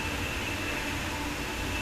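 Simulated ICE 406 high-speed train in Train Sim World 2, coasting steadily on the line between Faversham and St Pancras as braking begins, a continuous even rumble with a faint high whine throughout.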